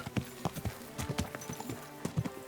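Horse hooves clip-clop at a steady walking rhythm in the medieval game Kingdom Come Deliverance 2, close and clear, with a brief whinny mixed into the plodding steps and no talk over them.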